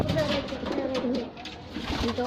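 Pigeons fight close by at a loft, throaty coos overlapping with fluttering and rustling, a voice murmuring faintly underneath.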